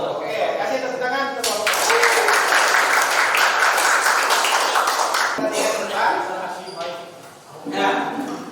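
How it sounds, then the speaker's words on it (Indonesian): Classroom applause during a physics lesson practice session at Universitas Jambi, a dense burst of many students clapping that swells, holds for several seconds, then fades as a voice and room noise return. "Oke, kasih tepuk tangan."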